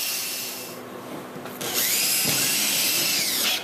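A power drill drives screws through a batten into the bottom of a 1946 Gar Wood Ensign boat, whirring loudly for about two seconds after a quieter stretch of workshop noise.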